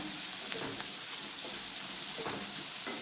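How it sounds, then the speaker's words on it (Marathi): Onion roasting in a hot pan for matki bhaji gives a steady, close sizzling hiss, broken by a few soft scrapes and clicks of stirring. "आता हे भाजून घेते कांदा चांगला"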